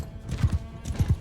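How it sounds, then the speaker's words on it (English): Horse hooves clip-clopping at a gallop in the medieval battle game Mount & Blade II Bannerlord, two quick paired thuds in each of two bursts, fairly close and clear with no talk over them. "so good to have the mobility of the horse at the start of these battles"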